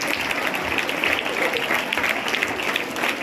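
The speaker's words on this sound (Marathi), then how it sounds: "जोरदार टाळ्या आपण" Audience applause at a residential camp program for seventh-grade students, steady dense clapping throughout at close range with no talk.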